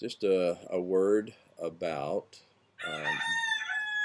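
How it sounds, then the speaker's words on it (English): A rooster crows from a neighboring yard near a home's back lanai in Laie, Hawaii, its long harmonic call standing out clearly while someone speaks over and between the crows. "and the rooster. Sorry about that also."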